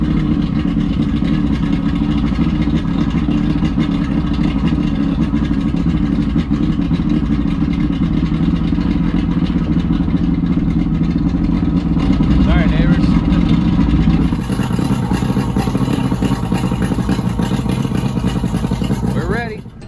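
The outboard engine of a 1965 Boston Whaler boat runs at a steady, loud idle for the whole stretch, with a slight shift in tone partway through and a brief voice near the end.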